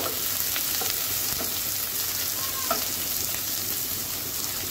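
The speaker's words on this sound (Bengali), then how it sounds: "পেঁয়াজটাকে একটু ভেজে নিব" Onions frying in a pan, a dense, loud, continuous sizzle with faint crackles and an occasional light knock of a utensil.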